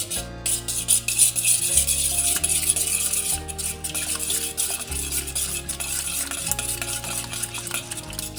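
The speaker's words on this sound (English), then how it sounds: "Add salt and stir it." Chicken leg pieces stirred with red chili powder, spices and salt in a frying pan, a steady scraping and rubbing of utensil against the pan over a continuous sizzle, loud and close throughout.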